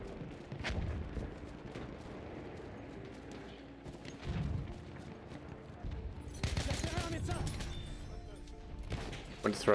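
Battlefield 1 multiplayer gunfire, a dense stretch of rifle and machine-gun bursts and distant booms that builds toward the end, mixed with battlefield noise.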